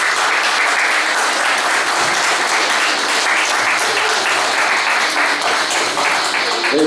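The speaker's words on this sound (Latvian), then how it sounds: "Lūdzu, aplausiet!" Sustained audience applause at the opening of the Riga Cup 2011 powerlifting championship, a dense wash of clapping from a large crowd that stays loud and steady throughout.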